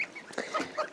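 Hens and turkeys inside a coop give honking, squawking calls that overlap, several birds close by, moderately loud with no talk.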